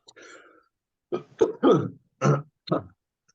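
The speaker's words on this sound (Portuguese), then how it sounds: "de vez em quando eu vou dar essas tossidas" A person clears their throat and coughs several times in a quiet room: one low rasping clear, then a quick run of five short, fairly loud coughing bursts, with no talk.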